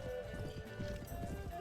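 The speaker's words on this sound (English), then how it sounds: "Are those horses? Those look like little horses" Horses in the Mount and Blade Warband game clop in a steady stream of hoof beats, with several animals moving together at a middling distance under a constant background hum.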